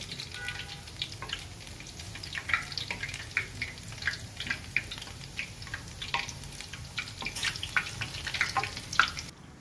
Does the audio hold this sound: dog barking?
no